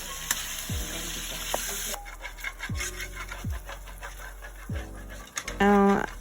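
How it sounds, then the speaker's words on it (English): Chicken sizzles and fries in a pan while a utensil repeatedly scrapes across the pan's bottom in several short, distinct strokes, fairly close and moderately quiet, with a brief voice-like sound near the end. "I'm scraping the bottom of the frying pan so that everything won't stick down"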